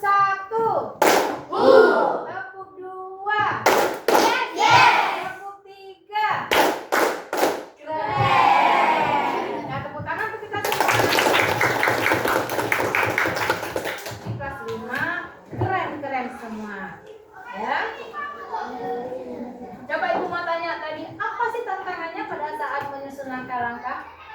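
A group performs a rhythmic clapping chant, sharp bursts of hand claps alternating with shouted call-and-response voices, loud and close, with talking before and after.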